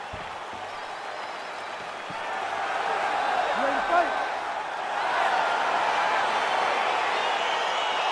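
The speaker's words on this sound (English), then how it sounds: "crowd getting excited as this fight gets underway" Virtual arena crowd in the UFC 4 fighting game roaring as a bout begins, a steady dense wash of cheering that swells midway, with a commentator talking over it.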